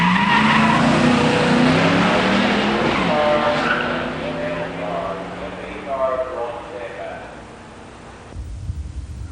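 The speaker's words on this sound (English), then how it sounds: "In the near lane, Jeff Mosing's 87 Mustang LX 302 HO 5-speed" An 1987 Mustang LX 302 HO 5-speed and an 1986 Mustang GT 302 5-speed race down a drag strip, loud engines rising through gears with tire squeal, while an announcer talks over the noise.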